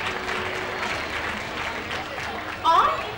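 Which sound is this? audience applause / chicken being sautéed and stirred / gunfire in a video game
audience applause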